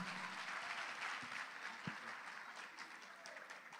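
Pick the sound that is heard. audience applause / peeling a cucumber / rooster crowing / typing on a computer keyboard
audience applause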